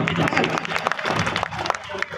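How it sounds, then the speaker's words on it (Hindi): An audience at a Maithili comedy stage show claps loudly and continuously, with a crowd murmur and talk mixed in. "एक बेर ताली जोर से बजा दिए"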